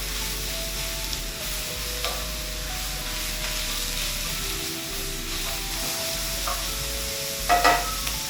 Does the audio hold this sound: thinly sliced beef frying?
yes